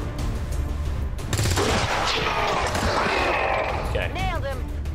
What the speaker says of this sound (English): Yeah, I want you to shoot him.